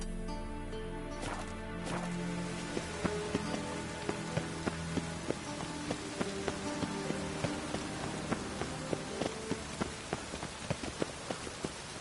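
Steady rain patters across a surface in The Witcher video game, a continuous wash of drops with scattered sharper ticks, heard alone without voices.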